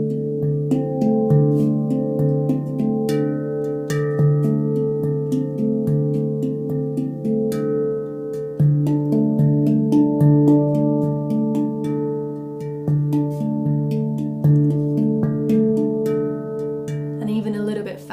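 Handpan playing a steady, rolling rhythmic pattern of resonant metallic tones, with ringing overtones, close and continuous throughout, with no voices.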